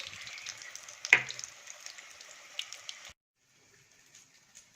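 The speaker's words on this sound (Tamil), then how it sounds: "இந்த மாதிரி திருப்பி போட்டு ரெண்டு பக்கமும் நல்லா கோல்டன் ப்ரௌன் கலரில் ஃப்ரை பண்ணி எடுத்துக்கோங்க." Vegetable cutlets shallow-frying golden brown in oil give off a soft, even sizzle with one sharp clack near the start. The sizzle cuts off after about three seconds, leaving only a faint hiss.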